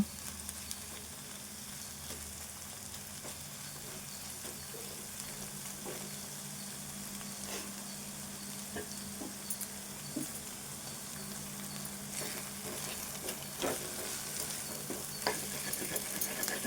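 Okra fry being stirred in a pan, a quiet steady sizzle with scattered light scrapes and taps of a spoon across the whole stretch, no speech.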